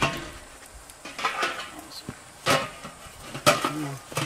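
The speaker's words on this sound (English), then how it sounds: "Can you hand me that pot, Bree?" A metal pot is handled beside mesquite coals while readying a crawfish boil outdoors, giving a few sharp clanks and clinks spread across a few seconds, with quiet talk in between.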